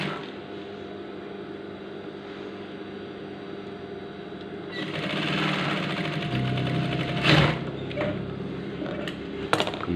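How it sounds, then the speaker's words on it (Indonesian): A sewing machine stitches a stiff shirt collar for a PDH uniform, running steadily for about ten seconds with a continuous mechanical hum that grows slightly louder partway through, heard alone and close. "Kita jahit dari tengah dulu biar nantinya tidak panjang pendek ya teman-teman."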